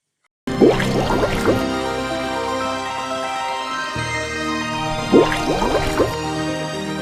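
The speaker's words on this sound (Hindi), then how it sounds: "यह कहकर वरुण देव ने पानी में डुबकी लगाई" A water splash as a figure dives into water: two bursts of splashing and dripping liquid, the first early and another near the end, over a steady watery bed with no talking.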